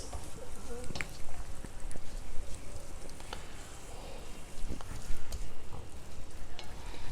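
Poha kesari, a sweet made with rice flakes, is stirred in a pan over a low flame, with a soft sizzle and repeated scraping and stirring strokes, close and steady.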